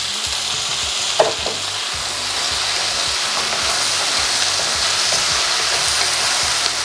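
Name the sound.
beef frying and sizzling in a pan with pineapple stir-fry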